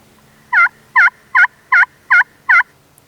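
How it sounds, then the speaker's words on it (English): Six evenly spaced two-tone yelps from a turkey pot call, crisp and close, repeating at a steady rhythm with no talking. "the circle is going to give me that two-tone yelp"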